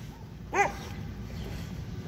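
A single short bark from a boxer dog, one of several dogs nearby on a residential street, rising briefly over steady outdoor background noise.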